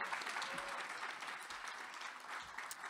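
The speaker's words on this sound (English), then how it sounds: "Big applause." Steady applause from a conference audience greeting a student panel participant being introduced, a continuous dense patter of clapping hands throughout at moderate distance.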